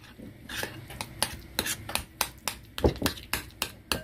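A spoon beats butter and dried parsley in a bowl, striking the sides in a quick, steady rhythm of close clicks and scrapes, about two or three taps a second, with no talking.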